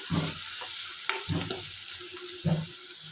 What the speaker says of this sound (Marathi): लसणाची पेस्ट, कांदे लसूण चांगले परतून घेऊ.